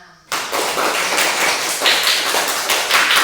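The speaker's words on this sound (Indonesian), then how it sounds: "Tepuk tangan untuk kelas 6." Students clap for class 6 in a classroom lesson; after a brief moment of speech, a burst of lively group clapping starts abruptly and continues strongly to the end.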